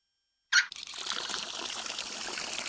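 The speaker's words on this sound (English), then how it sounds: "He turned on the tap and put my hand under the water." A tap is turned on at a sink in the video game Cupid Parasite: after a moment of silence a sharp gush starts, then settles into a steady running trickle of water that continues to the end, with no voices.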